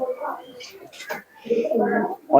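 Star Kalanka pigeons coo in low, soft rounded calls close by, partly blended with a person talking over them.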